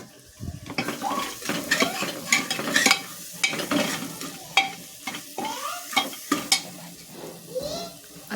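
Spices being stirred and sautéed in hot oil for Mumbai-style pav bhaji, a close, steady sizzle broken by repeated spoon-and-pan scrapes and clinks in an uneven rhythm, with no one talking.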